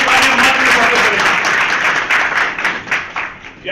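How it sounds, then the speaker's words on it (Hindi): A crowd applauds loudly to welcome a guest at a gathering, dense continuous clapping close by that stays strong and then tapers slightly toward the end. "सब जोरदार तालियां मारकर स्वागत करें।"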